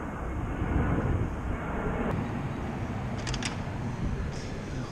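A fixed-wing airplane roars steadily overhead near an airport, a broad continuous rumble heard from outdoors throughout, with a few faint clicks on top.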